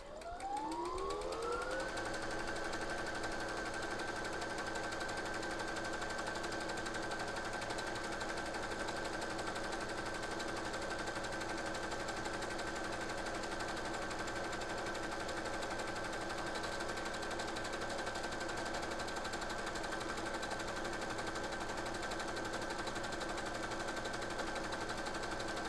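Sewing machine stitching a buttonhole with an automatic buttonhole foot, a steady high whirring hum that ramps up in pitch at the start then runs evenly and continuously, no voices.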